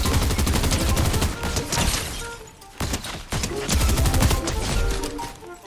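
Video game gunfire rattling in fast, loud continuous bursts, a dense barrage with only a brief lull midway before the shooting picks up again, heard alone without speech.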